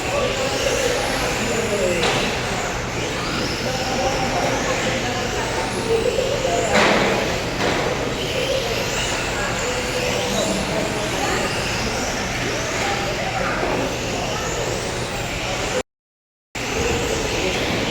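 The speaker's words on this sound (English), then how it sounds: "You can see how fast a TT01 is at a tight track." Tamiya TT01 RC cars racing around a tight track, a continuous high whine of small electric motors rising and falling as the cars pass, with a voice talking over it throughout.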